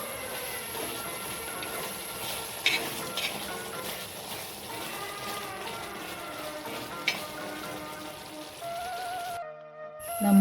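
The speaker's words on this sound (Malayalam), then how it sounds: "നന്നായി ഒന്ന് ഇളക്കി കൊടുക്കാം." Banana pieces are stirred in a pan of reducing coconut milk with cardamom powder for Onam pazham nurukku, giving a steady soft sizzle and bubbling with a few louder spoon scrapes and clinks.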